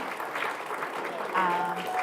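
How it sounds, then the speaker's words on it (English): Crowd applause in an arena at a bench press championship, steady clapping throughout with an announcer's voice talking over it. "he gets a hell of a round of applause from the crowd"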